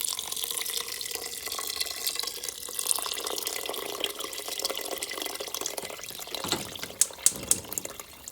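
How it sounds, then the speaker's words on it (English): Water from a tap runs steadily into a pot holding two cups of rice and two cups of kidney beans, about six cups in all, a continuous close splashing stream with a few brighter drips near the end. "We're gonna add some water now."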